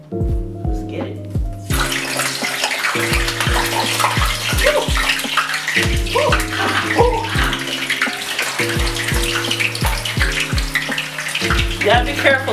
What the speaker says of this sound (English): You gotta be careful, sometimes the oil likes to splatter.